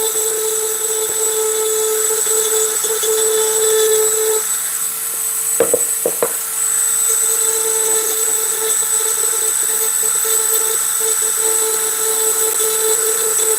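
Rotary tool bit smoothing away an undercut, a loud steady high-pitched whine held close by, briefly dipping with a few sharp clicks midway before the grinding resumes, no speech.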